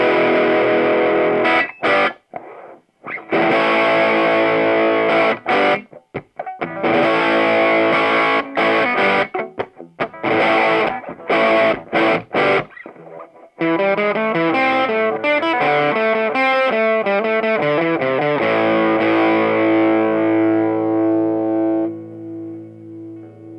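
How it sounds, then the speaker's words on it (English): A Noisy Cricket MK II, a quarter-watt op-amp-powered amplifier, played completely maxed out through a 100 watt speaker. Guitar chords come through loud and heavily overdriven and distorted, then give way to sustained notes that ring out and fade at the end. "this is the amp completely maxed out through a 100 watt speaker."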